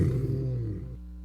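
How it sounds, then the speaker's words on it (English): A lion lets out a short, deep roar, loud and close, tapering into a low rumbling growl over about a second. "That is why the lion roars."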